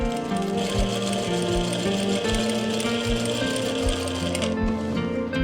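An electric sewing machine runs steadily while stitching a zip seam into the back of a kurti, giving a continuous mechanical whir with regular rhythmic thumps of the needle, close and alone.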